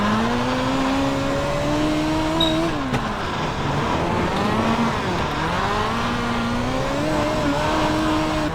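Midget race car lapping the Chili Bowl dirt short track in the iRacing sim, a continuous engine drone whose pitch rises and dips as it accelerates down straights and lifts into corners, steady and fairly loud.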